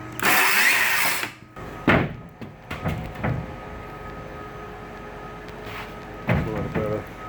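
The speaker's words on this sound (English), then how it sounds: "cutting carbon fiber" A power tool trims carbon fiber on a boat deck during a center console deck replacement, with short, loud bursts of cutting separated by pauses, close up.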